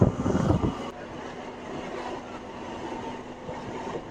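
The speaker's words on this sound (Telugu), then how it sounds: "యాదాద్రి నుంచి మన ట్రైన్ బయలుదేరింది" A MEMU passenger train pulling out of Yadadri station, heard as a steady low rumble and rushing noise from inside the coach, with a louder burst at the very start before settling into an even drone.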